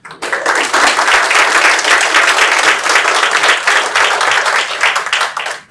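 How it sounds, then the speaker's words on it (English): A crowd gives a loud, sustained round of applause at a Clean Energy Task Force gathering in Connecticut, a thick wash of clapping that holds steady for several seconds before cutting off. "give the Clean Energy Task Force a nice round of applause"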